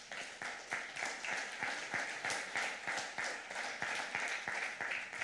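A church congregation applauds during a worship service, many hands clapping together in a full, continuous round with a gently pulsing rhythm, steady and fairly close throughout.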